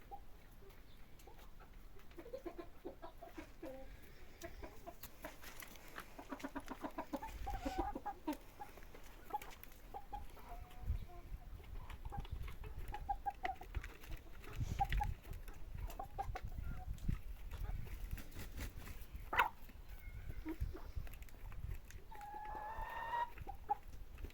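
Four-month-old Lohmann Brown hens cluck softly and sporadically around a farmyard, with scattered murmurs and occasional sharper calls over quiet background rustling, fairly faint throughout.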